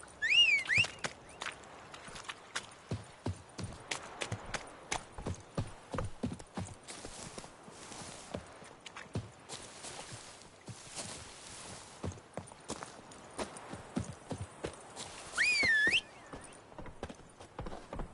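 Horse hooves clip-clopping in The Witcher 3, a close, steady run of hoofbeats with a few louder thumps and shrill whinnies and squeals, including one near the start and one toward the end.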